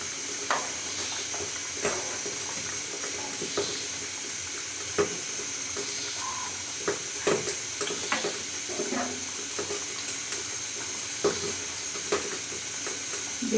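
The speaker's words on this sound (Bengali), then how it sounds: "ঝোলটা ফুটে গেছে, এখন আমি গরম মশলার গুঁড়ো দিয়ে নামিয়ে নেব" Curry gravy bubbles in a pan at a rolling boil, with a continuous hissing simmer and frequent small pops and clicks.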